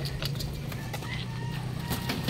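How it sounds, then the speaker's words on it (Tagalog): Pet pigeons excitedly eating feed make soft cooing and clucking sounds with scattered pecks and taps, close and steady over a low background hum. "Eto na naman, kakabilin ng patuka para dito sa mga alaga naming kalapati."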